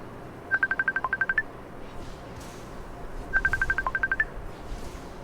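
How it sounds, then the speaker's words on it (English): Phone ringtone playing two short bursts of rapid electronic beeps a couple of seconds apart, clear and fairly close against a low background hum. "so sorry about the ringtone"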